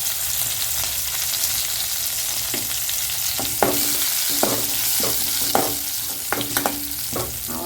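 Curry leaves hitting hot oil while tempering peanut chutney give a steady, close sizzle punctuated by sharp crackles and spattering pops that grow busier toward the end.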